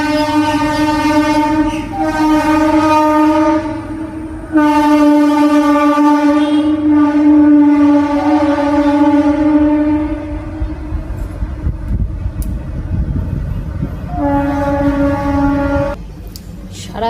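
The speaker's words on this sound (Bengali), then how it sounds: "সারাদিন এই ট্রেনের আওয়াজের চোটে মাথা খারাপ হয়ে যায়, সব সময় লাইন দিয়ে শুধু ট্রেন যাতায়াত করছে।" A train passes close by on a railway line, loud throughout, sounding long blaring horn blasts with a rumbling rattle of wagons between them.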